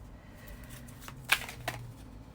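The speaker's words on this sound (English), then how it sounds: "And shuffling more to get our pile 2 card." Tarot cards being shuffled by hand, heard as a soft papery rustle with two sharper riffling bursts close to the microphone. No one speaks.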